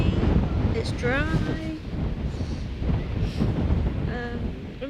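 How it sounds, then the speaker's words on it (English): Strong wind buffets the microphone on an exposed ridge along the Thames Path between Dartford and Cliffe, a steady loud rumble lasting throughout, with people talking over it. "you just get blasted in your face by the wind"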